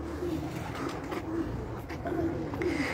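Madina teddy pigeons cooing, soft repeated low coos close by, with faint background noise and a little talk.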